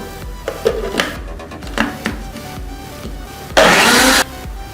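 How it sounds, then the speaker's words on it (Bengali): A kitchen blender whirring borhani, a spiced yogurt drink, gives one short loud burst of motor noise near the end, after a few scattered knocks and clatters. "আমরা ব্লেন্ডারে আবার ব্লেন্ড করে নিব"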